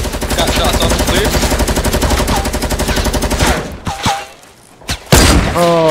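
Rapid gunfire from a Fortnite match, loud and dense bursts of repeated shots for several seconds, then a few separate booming shots with brief quiet gaps, close to the listener.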